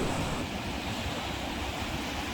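Large ocean waves break and crash against sea cliffs in a continuous, fairly soft wash of surf, with no voices.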